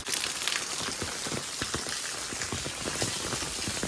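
Steady rain pours down on a Punjab farm, a dense, even patter of drops hitting surfaces close by, with no voices.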